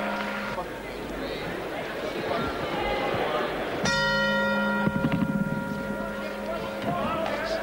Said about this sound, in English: The bell just sounds and round two is underway.